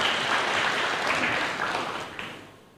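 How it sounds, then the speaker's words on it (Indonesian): A church congregation bursts into loud, dense applause during a sermon, a continuous roar of clapping that stays strong before tapering off toward the end. "Berikan tepuk tangan yang meriah buat Tuhan"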